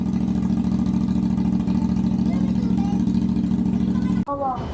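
A CFmoto 450NK motorcycle fitted with an aftermarket slip-on exhaust idles with a close, loud, steady throbbing drone, then cuts off abruptly near the end.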